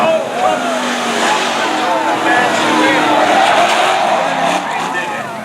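Race cars roar around Stafford Speedway on a kids night, several engines blending into a loud continuous drone up the backstretch, with tires chirping and an announcer talking over the racing throughout.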